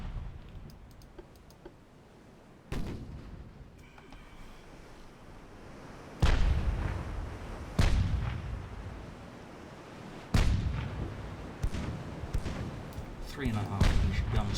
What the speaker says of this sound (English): .5-inch guns are opening fire